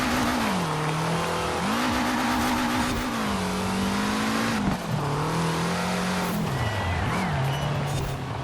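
A 1973 BMW 2002 Turbo in Forza Horizon 4 revs steadily and loudly throughout, its engine note wavering up and down as it shifts, with hints of tire squeal and skidding; no talk is heard.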